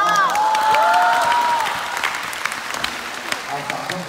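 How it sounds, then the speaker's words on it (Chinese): Audience applause at a live crosstalk comedy show in Harbin, a broad wash of clapping from a sizable crowd that starts loud and thins out, with a performer's voice talking over it early on. "掌声不要很热烈的"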